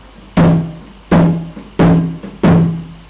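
Four evenly spaced kendang drum hits, the stroke called cung, each a crisp attack followed by a short resonant hum that decays quickly, played alone and close.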